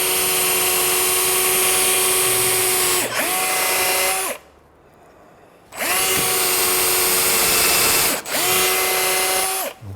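A power drill pre-drilling wood whines loudly in two long bursts, with a brief pause between them and a quick stop near the end.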